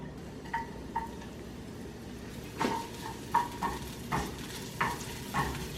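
Onions fry in olive oil in a pan with a quiet, steady sizzle, broken by a series of sharp utensil clinks and scrapes as they are stirred.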